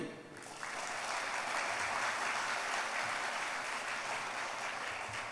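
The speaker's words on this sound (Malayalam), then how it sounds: "ഒന്ന് കൈയടിച്ചേ." A church congregation breaks into sustained, loud applause that starts abruptly and continues steadily with dense overlapping claps.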